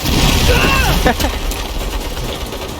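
Turret fire in the video game Saints Row: a dense, loud burst of booming gunfire and crashing impacts up front, tapering into lingering rumble and scattered shots, with shouting voices mixed in.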